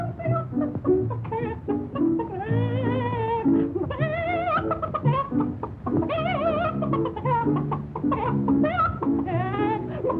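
A woman sings a fowl song in a 1933 comedy musical short, her voice imitating a clucking, warbling chicken throughout, steady and moderately loud over a light accompaniment.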